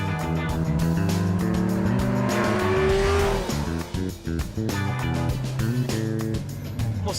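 A Ferrari 348 V8 engine revs and accelerates nearby with a loud, rasping roar that climbs through the gears, briefly dips at a shift, then pulls hard again, with faint voices now and then.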